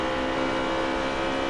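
Steady, droning race car engine hum from a NASCAR video game at Talladega, a continuous tonal buzz of motors held at constant pitch without speech.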